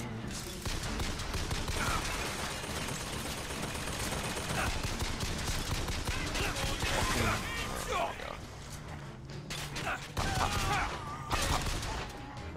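Bursts of gunfire from the video game Bioshock Infinite crackle under dense game sound and music, with a player talking over the action.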